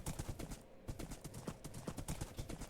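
Rapid clip-clop hoofbeats from a horse ridden across ice in Minecraft, a quick uneven stream of soft thuds close by, continuing without voices.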